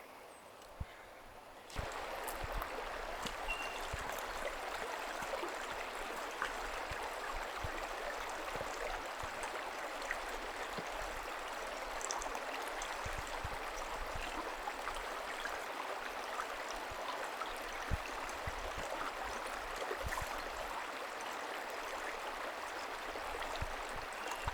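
Creek water flows steadily in a wetland, a broad, continuous wash of moving water with no break, heard close and alone at a fairly low level, with a few faint knocks scattered through.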